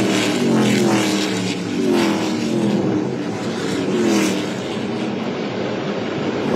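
ARCA Menards Series West stock cars roar past at Irwindale, loud engines sweeping by in overlapping passes with rising and falling pitch, a continuous racing drone.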